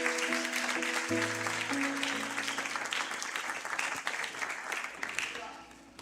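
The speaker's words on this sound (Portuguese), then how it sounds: "Você pode aplaudir ao Senhor aí, meu filho?" A church congregation applauds during a sermon, a broad wash of clapping under sustained organ or keyboard tones, gradually fading toward the end.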